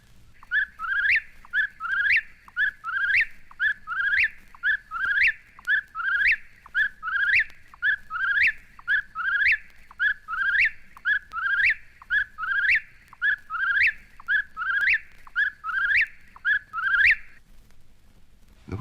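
A whippoorwill calls over and over in a steady rhythm, each phrase a whistled three-part song, about twenty repeats in a row, loud and close against a faint low hum.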